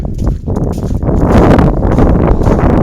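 Strong wind buffets the microphone in a loud, continuous roar during an outdoor horse lunging session, with rustling and muffled thuds mixed underneath.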